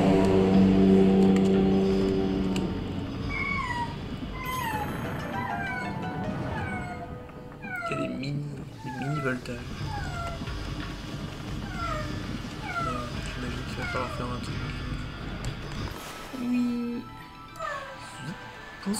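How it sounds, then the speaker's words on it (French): A cat meows repeatedly indoors, a string of short rising calls spread across the stretch, fairly close, with a louder low voice or background sound at the start and a brief low sound near the end. "Excusez-moi pour le chat."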